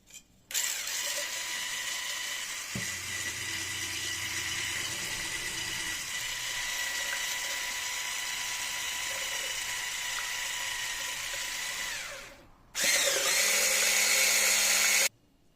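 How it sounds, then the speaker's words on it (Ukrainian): Electric hand mixer whisking wheat pancake batter ingredients into a foam, a steady loud high motor whine running almost without break, pausing briefly near the end before starting again. "збиваємо це все в піну"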